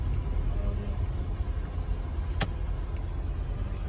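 A car idles and creeps along in slow traffic behind a stopped bus on a road near Kohat, a steady low engine rumble from inside the cabin with one brief sharp click partway through.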